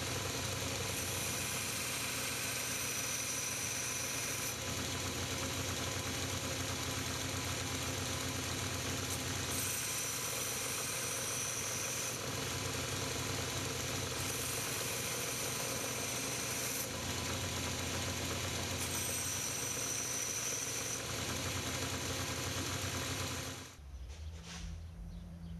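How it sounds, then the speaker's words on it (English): A belt grinder running a 50 grit belt against a one-piece steel razor blade gives a steady, loud abrasive whir with a constant motor hum, pulsing slightly as the blade is pressed, then cuts out near the end. "I'm using a 50 grit belt right now."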